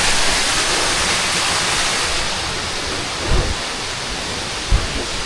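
Broad, steady rushing of water flowing at a waterfall, loud and continuous, with a couple of soft low thumps toward the end.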